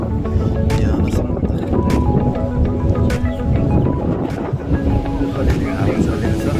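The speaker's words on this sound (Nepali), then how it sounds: "अलिअलि हावा चलेको छ" Wind on a mountain hiking trail buffets the microphone in a constant, loud low roar that runs the whole stretch with no break.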